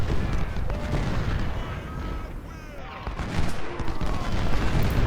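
Artillery cannon fire in Ultimate General: Civil War at the Battle of Malvern Hill, 20-pounder guns booming in a dense, continuous battle din with scattered musketry and faint voices mixed in.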